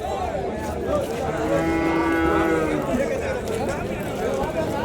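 Cattle moo loudly over a steady crowd murmur at a cattle market in Vaniyambadi, one long low call standing out near the middle amid general livestock-yard noise.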